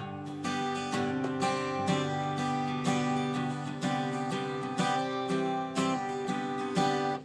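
Strummed guitar chords repeat in a loose rhythm, with quick extra notes sounded by hammering on between strums, close and clear.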